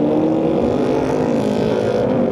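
Newly bought manual car engine running while driving, a dense, steady close-up drone without breaks.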